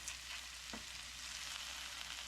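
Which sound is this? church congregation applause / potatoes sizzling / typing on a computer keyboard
potatoes sizzling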